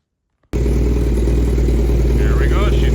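A 1987 Honda CBR600F1 motorcycle engine with no muffler fires up abruptly after a moment of silence, then settles into a loud, raw, steady idle with a throbbing exhaust note, close up.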